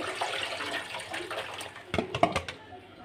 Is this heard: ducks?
no